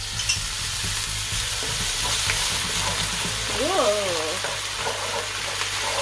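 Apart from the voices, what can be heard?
water added to sugar in hot pan for caramel sauce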